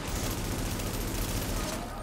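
Rapid gunfire in the video game The Division, a fast stream of shots rattling close and loud for about two seconds before easing off, with no talk over it.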